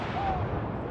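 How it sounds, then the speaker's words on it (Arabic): Artillery guns firing a ceremonial salute in front of London Bridge for Queen Elizabeth II, a heavy, dense boom filling the moment, loud and rumbling with no voices over it. "حيث يتم إطلاق طلقات مدفعية من أمام جسر لندن تحية"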